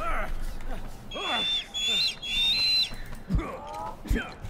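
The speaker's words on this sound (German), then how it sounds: "jetzt kommen auch nur die Vögel und kacken mir aufs Bein oder was?" Birds in the prehistoric video game Far Cry Primal give a few high whistling calls and short squawks, fairly close and scattered across a few seconds, with quieter in-game sounds around them.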